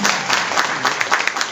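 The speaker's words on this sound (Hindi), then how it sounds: "जोरदार तालियां एक बार" Hundreds of supporters clap loudly at a political welcome gathering in Ghonda, Sudamapuri, Delhi, a dense, steady wash of applause with sharp individual claps standing out throughout.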